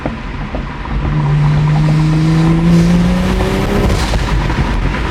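A Toyota Supra engine revs hard and rises in pitch, a loud, aggressive roar building close by before easing off slightly.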